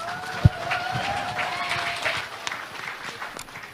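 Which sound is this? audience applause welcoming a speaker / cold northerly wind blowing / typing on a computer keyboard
audience applause welcoming a speaker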